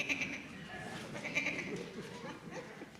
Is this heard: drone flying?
no